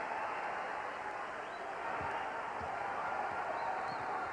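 A small arena crowd at a 1996-97 NBA game between the Vancouver Grizzlies and Golden State Warriors keeps up a steady, continuous roar of cheering and murmur with no clear peaks, filling the background throughout.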